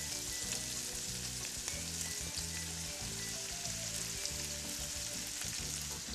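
Cut squash sizzles loudly in a hot pan alongside tenderloins, a continuous dense frying hiss with a spoon scraping and stirring rhythmically through it, and no voices.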